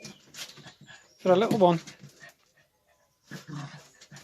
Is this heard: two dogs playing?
yes